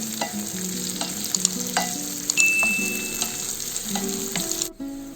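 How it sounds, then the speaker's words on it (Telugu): Onions fry lightly in a pan for chicken keema, giving a steady soft sizzle broken by clinks and scrapes of stirring, with one brief high ring near the middle. "ఆనియన్స్ మనకి లైట్గా వేయించుకోవాలి"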